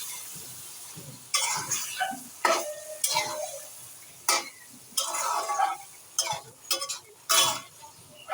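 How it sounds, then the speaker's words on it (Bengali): Pieces of desi country chicken sautéed in a pan, with bursts of scraping stirs and light metallic clinks over a quiet sizzle, close and fairly loud, no one talking. "মাংসগুলো দিয়ে দিব। ভালো করে কষিয়ে নিব।"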